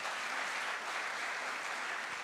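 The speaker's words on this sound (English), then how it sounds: "A big round of applause." Audience applause at a PGDM orientation program, a dense, steady wash of clapping that fills the whole stretch with no break and no voices over it.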